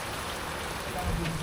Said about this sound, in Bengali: মনে হচ্ছে আরো বাড়তেছে বৃষ্টি